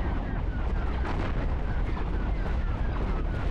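A ship explodes in the space game Cosmoteer, a dense roar of bursts and booms filling the whole stretch, loud and continuous like rolling artillery with crackling blasts layered over it.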